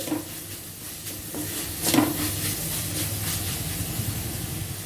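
Capsicum and spices fry and sizzle in a pan while being stirred, a steady close hiss with scraping stir strokes and a brief louder burst near the middle, with no talking.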